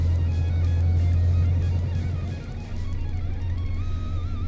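Modded truck engine in Euro Truck Simulator 2, hauling a flatbed: a loud, steady low drone with a brief dip midway and shifting tones as it runs.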